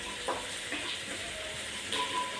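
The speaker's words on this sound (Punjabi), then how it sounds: "ਪਿਆਜ਼ ਆਪਣੀ ਬਸ ਭੁੱਜਣ ਵਾਲੀ ਨੇ" Onions frying in a pan, a soft, steady sizzle with faint stirring scrapes and occasional light pops, quiet and close with no voices.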